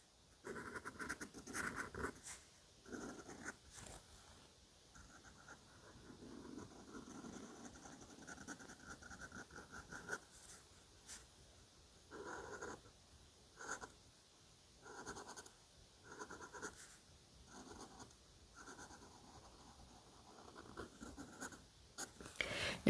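Crayon or marker colouring in green across paper around a crow drawing, steady scratchy strokes in close, quiet bursts with short pauses, no talking.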